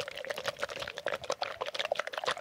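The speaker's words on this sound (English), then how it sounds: "I'm just over here for hours shaking an egg in my ear." A toy egg with sticky yolks inside is shaken close to the ear, giving quick wet squelching and sloshing clicks in an uneven, rapid rhythm, heard alone and fairly faint.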